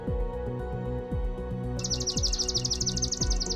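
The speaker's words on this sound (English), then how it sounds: "a swamp sparrow." A swamp sparrow sings a rapid, even trill of repeated chirping notes. It comes in partway through and sits high over a steady low hum with intermittent tonal swoops.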